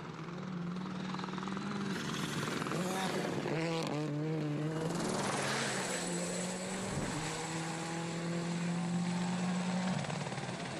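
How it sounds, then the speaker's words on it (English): Helicopter flying over a rally stage in the Azores, its rotor beating steadily and loudly throughout with a dense engine whine, staying close and continuous without voices. "mind the cars and mind the chopper"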